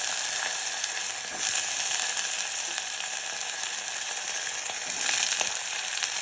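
Drumstick pods fry in hot oil in a pan, giving a loud, continuous close-up sizzle with slight surges as they settle, and no voices.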